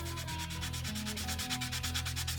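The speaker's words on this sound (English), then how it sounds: "Sand off my etcher" A drywall sanding block rubs back and forth across a knife etcher in rapid, even strokes, a close, continuous rasping scrub with no voices.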